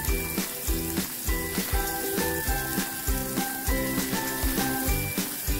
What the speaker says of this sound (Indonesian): kemudian kita tumis bawangnya sampai wangi